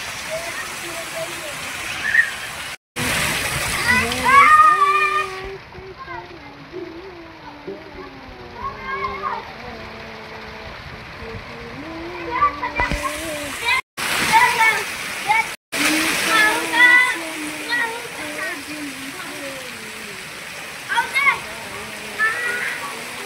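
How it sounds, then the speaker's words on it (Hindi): Heavy monsoon rain pours down in a dense, steady roar while people talk and children playing in the rain raise their voices over it. "गाइस देखिए इतनी बारिश हो रही है।"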